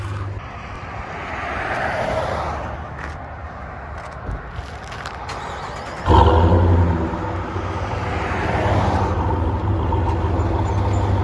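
From inside the cab, a RAM 1500 with a 5.7L V8 and an aftermarket cat-back exhaust idles with a steady low drone that rises in level partway through and then holds steady.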